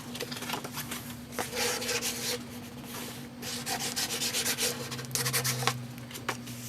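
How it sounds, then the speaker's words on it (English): Paper being burnished by hand on a pop-up album page, a steady close rubbing and scraping that runs continuously with small bursts of stronger strokes and no voices. "Let's make sure to burnish."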